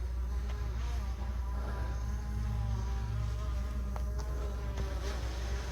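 A DJI Mavic Air 2 drone fitted with Master Airscrew Stealth propellers hovering overhead on a quiet morning, giving a steady, buzzing propeller whine with a low hum throughout and faint distant background noise.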